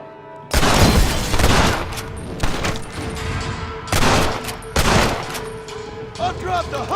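Loud bursts of gunfire ring out in the Western shooter game Red Dead Redemption: several volleys of rapid shots with booming echoes come in clusters, while brief voices are heard near the end.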